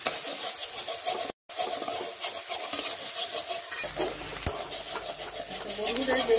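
Grated cauliflower for paratha fries and gets stirred in a pan, a steady scraping sizzle with utensil clinks running throughout, broken by a brief silent gap, while a voice talks over it.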